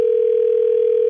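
A telephone dial tone hums steady and loud, one unbroken tone close to the listener with no voices over it.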